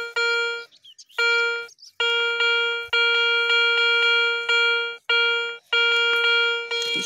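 A Garrett Euro Ace metal detector sounds a loud, steady tone outdoors while searching along old roads. It is cut into repeated long beeps with short silent gaps, close to the ear, and nobody talks.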